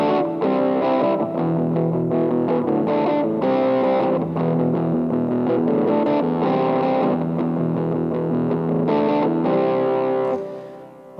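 An electric guitar plays steady rhythm chords through a Boss DS-2 Turbo Distortion pedal with the distortion at zero and the tone at half, a dense, continuous strummed sound that fades out at the end.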